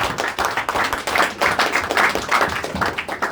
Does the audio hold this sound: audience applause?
yes